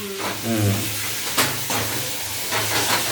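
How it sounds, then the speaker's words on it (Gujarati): Paneer tempering (vaghar) sizzles in a hot pan with a continuous steamy hiss and brief louder spurts, while a low hum runs underneath. "અહીંયા પનીરનો વઘાર થાય છે"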